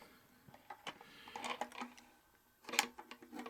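Metal wrench clicking and scraping as it tightens a nut on a long bolt under a cylinder arm sewing machine's top table, a quiet run of small irregular taps and ratchety clicks with a sharper cluster near the end.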